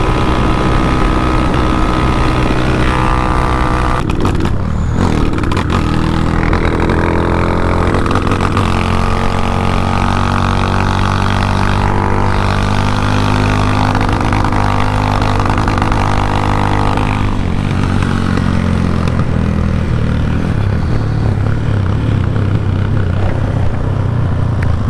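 A 371cc motorcycle engine roars at high revs for a long stretch on a highway top-speed run, pitch rising and falling as it speeds along, loud and close with wind rushing past.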